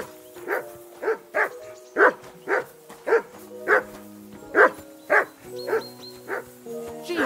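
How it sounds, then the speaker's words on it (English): A dog barks repeatedly in a steady rhythm, about a dozen sharp, close barks roughly half a second apart, with faint background tones between them. "Jesus, Henry, that barking's driving me nuts! Can you get your dog to shut its beak?"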